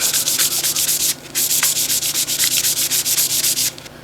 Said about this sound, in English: Take one of your 1-inch PVC pipes that has not been machined or touched in any way, and sand it with 320 grit sandpaper